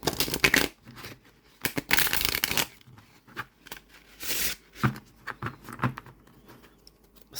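A thick, slightly stiff deck of linen-finish tarot cards is shuffled up close, with repeated riffling bursts and softer patters of cards being gathered and squared between them.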